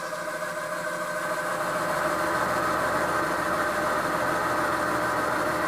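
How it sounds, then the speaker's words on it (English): A milling machine spins a 1/2 inch end mill held in a collet while machining a belt sander lift and tilt part, a steady close whirring motor hum with constant tonal drone, no voices. "I've switched to a collet, and we've got a 1/2 inch end mill in here"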